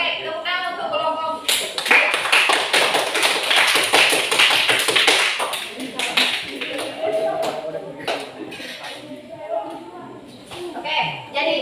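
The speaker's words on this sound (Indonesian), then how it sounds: "tepuk tangan untuk kelompok" Classroom applause for a student group after a zakat calculation exercise, a dense burst of many hands clapping that swells quickly, holds for several seconds, then tapers off, with a few voices mixed in.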